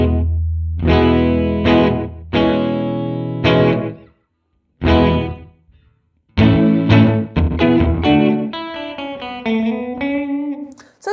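Electric guitar notes and chords played through an Alexander Space Force reverb pedal, each phrase trailing into a washy tail, with short gaps of silence between bursts.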